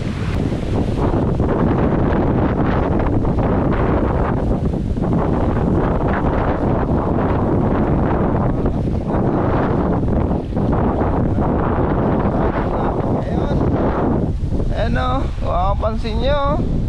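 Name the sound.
strong southwest monsoon wind by the sea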